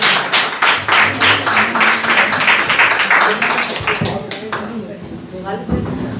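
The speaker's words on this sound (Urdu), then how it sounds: "میں آپ کو بھرپور تالیوں میں دعوت کلام دوں گا جناب راشد حسین راشد صاحب کو." An audience at an Urdu poetry mushaira at an Eid gathering in London claps in a fast, dense burst of applause that thins out toward the end, with someone speaking over it.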